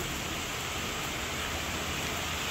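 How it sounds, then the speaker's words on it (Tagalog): Steady rain falls during a typhoon as a dense, even hiss with no breaks, heard alone and with no voices. "ngayon po ay maulan"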